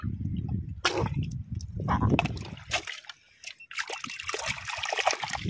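Freshly dug clams rinsed in water by hand, with trickling, sloshing and splashing in close, irregular bursts, and occasional brief voices in the background.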